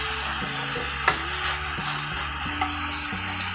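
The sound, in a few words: sautéing onion and corn in a pan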